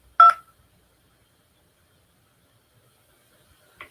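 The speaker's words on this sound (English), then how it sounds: "Please enter the first 3 letters of your party's first or last name using your touchtone keypad." Touchtone keypad dialing on a telephone directory line: one short, loud cluster of keypress tones near the start, then near silence and a faint second tone right at the end.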